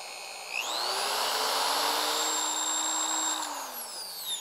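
A Truper 3/8 variable-speed power drill whirs up to speed, holds a steady high whine for a few seconds, then winds down.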